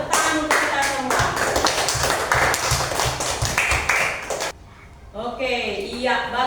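A classroom of children clapping together in a quick rhythmic pattern, the claps punching through lively chatter and voices, then pausing briefly before talk resumes.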